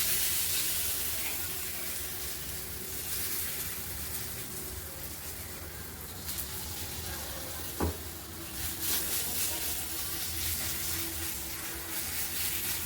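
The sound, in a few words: thalipeeth batter sizzling on a hot oiled griddle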